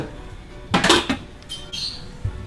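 A lid lands on a metal pot of chop suey with a loud, close clatter and rattle, then a few lighter metallic clinks fade out over a quiet background.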